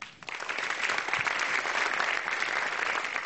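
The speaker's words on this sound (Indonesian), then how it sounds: "beri tepuk tangannya meriah" An audience at a stand-up comedy open mic bursts into applause, rising quickly after a brief quiet start into a full, steady round of clapping that carries to the end.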